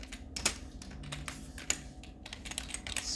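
Close, quick typing on a computer keyboard, a steady patter of key clicks with a few sharper strikes and no talk.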